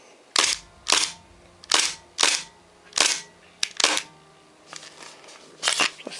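An airsoft Glock fitted with a carbine conversion kit fires about ten sharp, loud single shots at uneven intervals, each a crisp snap with a short mechanical rattle, the cocking lever clacking as it locks back.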